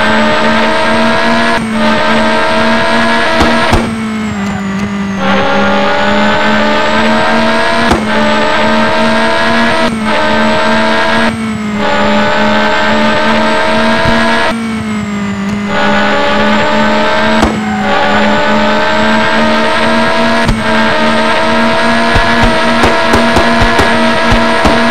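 A bus races on the final lap in the PlayStation game Test Drive Le Mans, its engine droning loud and steady at high revs. The pitch climbs through each gear and drops abruptly at repeated shifts, with no voices.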